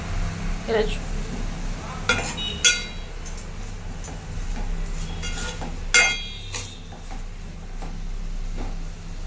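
Bottle gourd milk curry being stirred in a sizzling pan, with a steady low fry hiss and a few sharp spoon-on-pan clinks and scrapes scattered through, close by.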